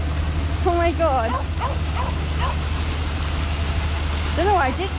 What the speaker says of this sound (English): Don't know why Dixie's barking.